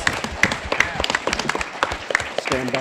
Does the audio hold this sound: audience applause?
yes